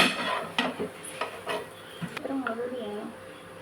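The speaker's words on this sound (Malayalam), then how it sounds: "അപ്പോൾ നമ്മൾ ഇനി ഇതൊന്ന് നന്നായിട്ട് വഴറ്റി കൊടുക്കുന്നുണ്ട്." Masala being sautéed in a pan, with a spoon scraping and clinking against the metal at irregular moments over a faint background sizzle and clatter.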